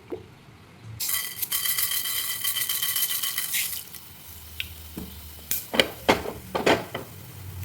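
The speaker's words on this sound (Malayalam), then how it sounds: "ഇനി ഇതിലേക്ക് വെളിച്ചെണ്ണ ഒഴിച്ച് കടുക് പൊട്ടിച്ചെടുക്കാം." Mustard seeds in hot coconut oil in a heated pan for a Talinum leaf and dal curry: a steady loud sizzle for a few seconds gives way to sharp, irregular popping and spluttering crackles, close by.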